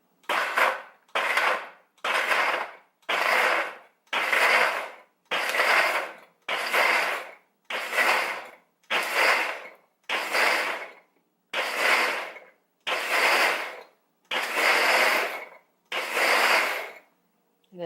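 A KitchenAid 5 Speed Diamond Blender on its chop setting pulses in repeated loud bursts, about a dozen short whirring runs separated by brief silences in a steady on-off rhythm.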